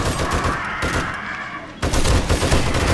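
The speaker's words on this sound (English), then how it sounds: "Oh, these machine guns just rip them apart." Machine gun turrets unload nonstop in 7 Days to Die with the Darkness Falls mod during a horde night. The loud automatic bursts dip briefly partway through, then surge back heavier and closer.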